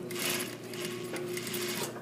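A sewing machine running an edge stitch, its fast, even mechanical whirr sustained and fairly faint, heard alone without talk.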